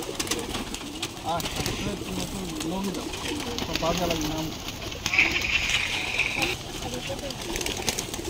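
A crowd of pigeons coos in low, overlapping calls at a busy spot where many birds are kept, mixed with mechanical clatter and people talking nearby.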